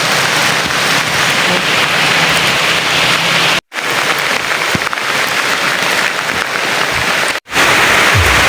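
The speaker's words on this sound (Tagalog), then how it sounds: "ang lakas ng ulan" Heavy rain pours down over rice paddy fields, a loud, dense and continuous hiss of drops close by, broken only by two brief cuts to silence.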